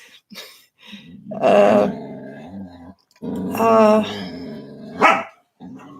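A small female dog growls and grumbles while playing, making several throaty bursts with short pauses between them, close and fairly loud.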